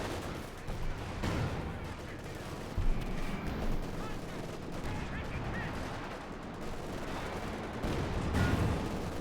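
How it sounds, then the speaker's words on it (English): Explosions and gunfire roll through a Company of Heroes 2 battle, a dense, continuous din of shots and blasts with a few heavier booms standing out. "Explosions going off there"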